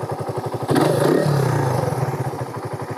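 A Raider 150 carburetor motorcycle engine idles with a steady rapid putter, briefly revving louder before settling back to its even, close-up chugging rhythm.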